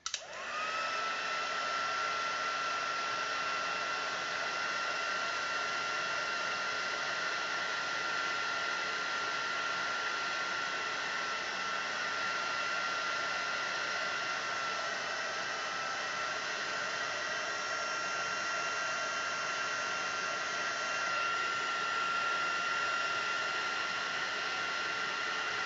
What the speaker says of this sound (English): I'll just set them with the heat tool